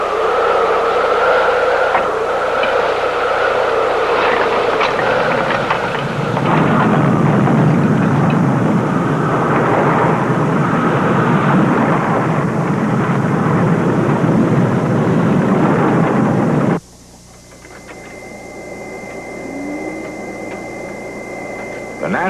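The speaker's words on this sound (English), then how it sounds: "Observing the effects of a simulated tornado on this model city provides graphic evidence of the power of the wind" Simulated tornado wind roaring over a model city in a severe storms laboratory, a loud, steady rushing blast that thickens midway and then drops abruptly to a quieter hiss.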